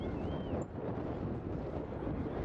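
Strong wind blows across an outdoor cross-country race course, a steady loud rush and rumble like wind buffeting a microphone, with a brief faint whistle near the start and no voices.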